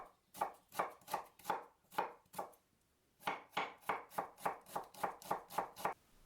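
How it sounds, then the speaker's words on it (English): A knife mincing half an onion on a cutting board makes rapid, evenly spaced chops, close and crisp: a run of strokes, a short pause, then a longer steady burst. "Also mince 1/2 an onion"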